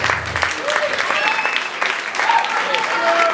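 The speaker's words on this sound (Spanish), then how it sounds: "un aplauso, papá" Audience applause at a live rock show during a cover, steady clapping with a few cheers and voices mixed in, fairly close and full for a few seconds.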